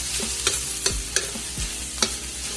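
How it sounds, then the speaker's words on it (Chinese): Green and red pepper strips stir-fried in a wok with soy sauce, a continuous sizzle broken by several sharp clanks of a spatula against the metal pan, close up and without talk. "继续炒啊，炒出它这个味道"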